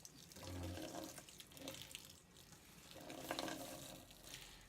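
Liquid squeezed from grated potato and onion for latkes drips and trickles faintly close by in short, uneven bursts.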